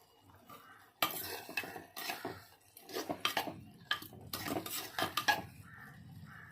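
Lid of a cooking pot of greens being lifted and handled, a sharp metallic clank followed by several clattering knocks and scrapes of metal at close range, fairly quiet overall.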